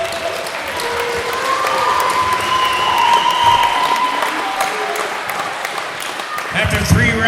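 Crowd applause rings out at a women's 130-pound championship boxing event for both fighters after the final round, a steady, loud wash of clapping and cheering that fills the arena, with a voice faintly heard beneath it.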